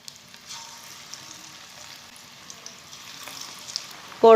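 Pakoras sizzle and crackle steadily in hot frying oil, a quiet continuous hiss with small pops, ending with a brief louder burst.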